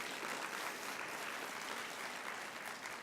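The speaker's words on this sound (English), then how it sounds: "please give our elected officials who support this campus a great round of applause" A room of guests at a campus community breakfast gives a steady, even round of applause for elected officials, a dense, continuous patter of clapping with no voices over it.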